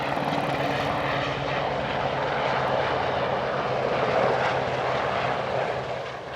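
A loud, steady roar of a Navy military jet passing overhead near Hawkridge, filling the air with broadband engine noise that swells slightly and then begins to fade.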